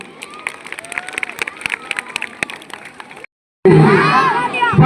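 A stage audience at an expo event claps and cheers loudly as a crowd, with shouts and whistles rising over sustained applause before a brief gap and another burst.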